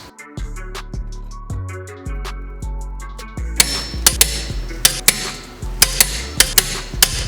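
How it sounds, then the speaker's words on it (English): Half-inch impact wrench hammering a castle nut onto a Mitsubishi Eclipse GSX wheel hub, heard as several bursts of rapid rattling blows, the later ones louder with sharp metallic clanks, close and with no talking. "I just hunkered it down with a 1/2 inch impact."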